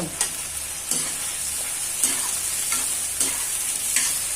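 Meat sizzling in a pan with crushed ginger, garlic and onion paste, a steady loud frying hiss broken by several sharp stirring scrapes at irregular intervals, close up with no talking.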